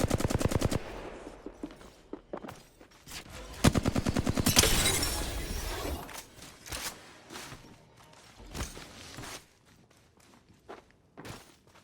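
Gunfire in the video game Apex Legends rattles out in rapid automatic bursts, loud and close, followed by scattered single shots, thuds and running footsteps.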